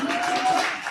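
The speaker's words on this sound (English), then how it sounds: "Please give them another big round of applause." Audience applause at a South Africa–Colombia exchange forum: a short, dense wash of clapping from a crowd, steady and fairly close throughout the brief moment.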